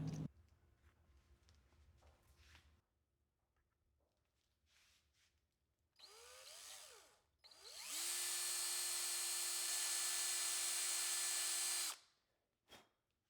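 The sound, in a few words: power drill drilling screw holes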